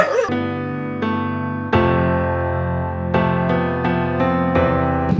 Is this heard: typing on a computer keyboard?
no